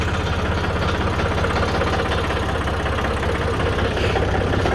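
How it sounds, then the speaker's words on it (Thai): A Yanmar 39 farm vehicle engine idles in a steady, close, loud chug with a dense low rumble and a fast knocking beat that holds unchanged throughout. No starting sequence is evident. "เดี๋ยวสิลอง สตาร์ท เครื่องให้เบิ่งครับ"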